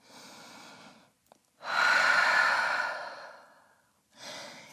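Deep yoga breaths taken while holding downward dog, with a soft inhale, then a long, loud, close exhale through the nose, followed by another breath starting, no speech.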